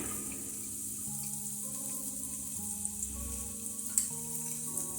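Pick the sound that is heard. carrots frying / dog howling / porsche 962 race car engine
carrots frying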